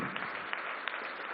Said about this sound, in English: Round of applause, ladies and gentlemen, for this guy, man.